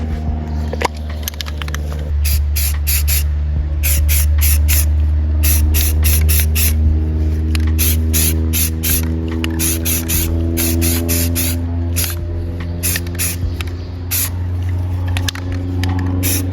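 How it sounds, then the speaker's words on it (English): Spray paint hissing onto a recce rifle outdoors in warm weather, in many short bursts with a steady rhythm, loud and close over a constant low hum. "as soon as I spray it on, because it's almost 70 something degrees out here, so as soon as the paint hits the rifle, it's pretty much already dry"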